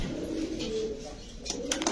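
Pigeons being sold at a market stall, cooing steadily close by over busy background noise, with occasional soft bird calls and no clear talk.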